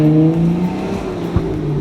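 Jeep Wrangler engine pulling hard under acceleration in Sport Plus mode, a loud close droning growl with a single sharp pop near the end suggesting a backfire.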